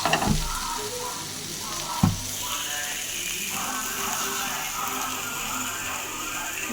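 Country chicken with beans and cauliflower fries in a pan, a steady close sizzle with occasional scraping stir strokes and a couple of clanks from the utensil, loud and continuous.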